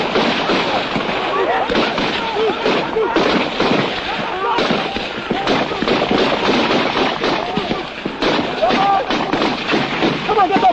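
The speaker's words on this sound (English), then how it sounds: "Most of their bullets are going into the ground ahead." Gunfire from Biafran war battle footage as troops advance, a dense continuous crackle of rifle and automatic fire with distant booms, loud and unbroken, with voices under the shooting.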